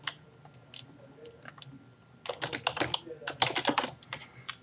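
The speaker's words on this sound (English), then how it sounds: "I just type in some text over here" Rapid bursts of keystrokes on a computer keyboard as text is typed, starting after a couple of seconds of quiet with scattered clicks, close and fairly soft, with no talking.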